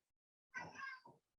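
A single indoor cat gives one clear, drawn-out meow with a short second chirp at the end, close and fairly quiet against silence.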